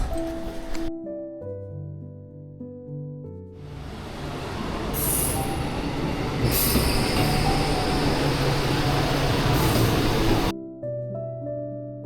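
A train on the Shimabara line near Nagasaki, Japan, rumbles along the rails with a steady roar and high wheel squeal, framed by brief musical chimes before and after.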